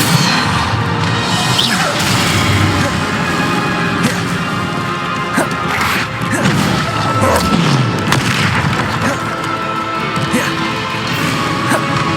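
Loud, dense spell explosions from a Hogwarts Legacy battle, a run of booming crashes and smashing impacts piling up over a continuous roar of game effects and music, with no pause between blasts.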